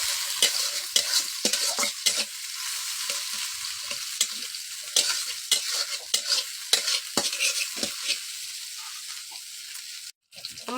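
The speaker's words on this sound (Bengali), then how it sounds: "পেঁয়াজটা আর কাঁচামরিচ দিয়ে ভালোভাবে একটু ভেজে নিব" Chopped onion and two green chilies fry in oil in a pan, with steady sizzling broken by frequent scraping stirs of a spatula, close and fairly loud throughout.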